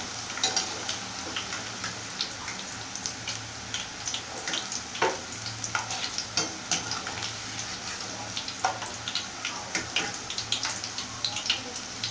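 Bitter gourd pieces fry in a pan with a soft, continuous sizzle and crackle, punctuated by light stirring clicks and occasional taps.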